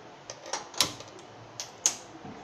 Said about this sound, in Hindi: और गैस ऑन करेंगे